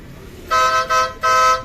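An MR car horn under test gives three short, loud blasts. The first two are close together and the third is held slightly longer, with faint background noise between them.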